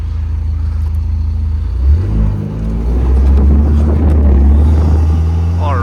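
Vanderhall Carmel three-wheeler on a drive, its engine a loud, close, continuous rumble that swells after a couple of seconds and holds steady with road and wind noise.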